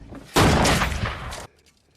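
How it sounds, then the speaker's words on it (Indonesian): A loud, harsh burst of gunfire from the film Wolf Creek 2 lasts about a second and then cuts to near silence. "Mick langsung mengeluarkan senjatanya dan langsung membunuh Katarina."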